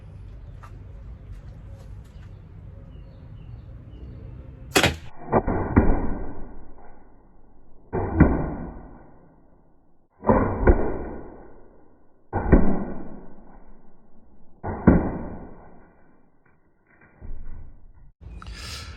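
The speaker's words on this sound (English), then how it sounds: "it seems like all the projectiles, or a lot of them, hit the back wood" A sharp airgun crack followed by a series of heavy thuds as .68 caliber rubber-steel balls hit a wooden backboard, spaced every couple of seconds, loud and close.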